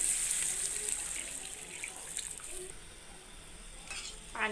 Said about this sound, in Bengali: এবার দিয়ে দিব আমি পরিমাণ মতো পানি। দিয়ে দিচ্ছি পানি